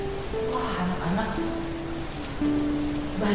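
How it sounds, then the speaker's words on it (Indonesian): Heavy rain pours down in a dense, continuous hiss, with a voice or tonal melody running over the downpour throughout. "Hujan turun dengan dahsyat dan tidak juga berhenti."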